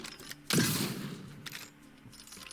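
A musket fires in the Roblox game Blox Fruits: one loud, sharp blast at half a second that rings out and decays, followed by softer secondary bursts.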